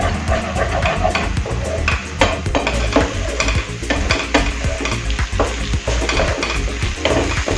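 Masala sizzling and frying in a pan after a spoonful of curd is added, loud and close, with a steady crackle and repeated scraping, clinking strokes of a spoon stirring throughout.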